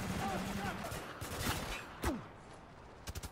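Gunfire in the shooter Spec Ops: The Line comes as a few quiet, distant sharp reports, ending in a short rapid burst of shots over faint ambient game noise.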